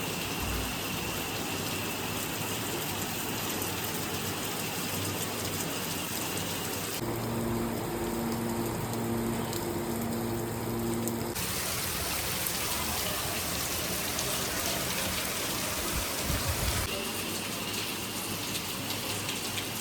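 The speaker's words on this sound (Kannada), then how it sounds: "ಜೋರು ಮಳೆ ಆಗ್ತಾ ಇದೆ" Heavy rain pours down outside a room at a nature-cure centre in Sirsi, a dense, steady hiss that holds at the same level for about twenty seconds with no voices.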